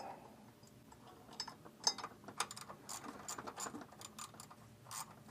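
Ratchet wrench clicking in quick, uneven bursts while tightening bolts on a Dodge Ram 2500 power steering pump, faint and close with scattered metallic ticks.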